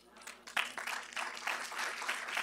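An audience claps at a speaking event, the applause building after a brief lull into a sustained, uneven patter, with a voice talking over it.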